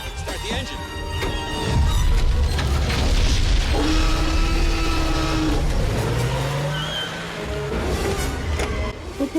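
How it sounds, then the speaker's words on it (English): A Jeep engine starts and drives in a Jurassic Park film scene, a loud low rumble building and holding steady, with a rising engine tone and people talking over it. "Start the engine."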